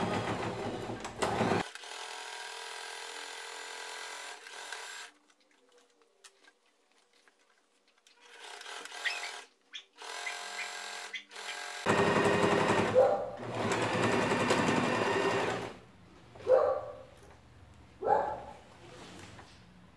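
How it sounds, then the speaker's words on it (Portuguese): A sewing machine topstitching the seams of a tall fabric toiletry bag, running in several close, rapid stitching bursts of varying length separated by pauses and a stretch of near silence. "E eu vou passar uma costura de pesponto aqui."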